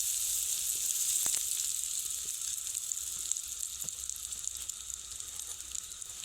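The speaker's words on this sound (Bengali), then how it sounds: "যে তেলটা আমি কড়াইতে গরম করতে বসিয়েছিলাম সেই গরম তেলটা এবার এর উপরে দিয়ে দেব" Hot oil from a kadai is poured over a green chilli pickle. It sizzles with a steady hissing crackle, fairly close, and a few faint clinks sound in the background.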